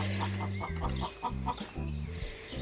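Six-week-old chicks and older chickens cluck close by in quick, repeated bursts of soft clucking calls, several birds overlapping, with no talk.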